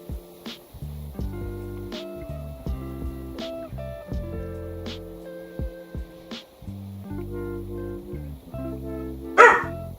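Several dogs bark at a neighbor's house, sharp bursts spaced across the stretch over steady synthesized game music, a louder cluster near the end.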